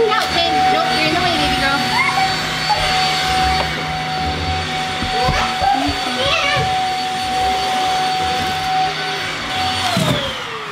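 A vacuum cleaner drones steadily and loudly throughout while a bedroom makeover is under way, with people talking and moving things over the constant motor hum.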